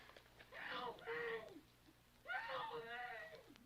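In an old-time radio drama, a woman screams in two drawn-out, wavering wails separated by a short gap, fairly faint over a low background hum.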